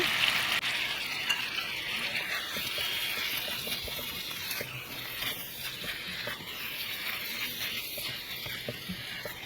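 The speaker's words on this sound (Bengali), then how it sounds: "মোমোগুলো এটার সাথে আমরা ভালোভাবে মিক্স করে নেব।" Cut momos fry in a pan while being mixed, giving a steady close sizzle with scattered scraping and clicking from the stirring, with no voices.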